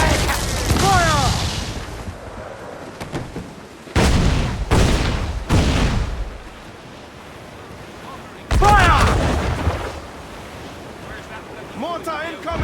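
Ship cannons boom in a naval battle in Assassin's Creed IV Black Flag, several heavy blasts in bursts over wind and surf, with shouting crew voices in between.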